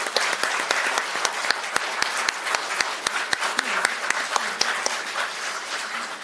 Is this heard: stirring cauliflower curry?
no